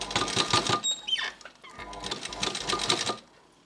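Sewing machine stitching thread piping onto cloth for a leaf-shaped trim, running in two close, rapid bursts of mechanical chatter separated by a brief pause.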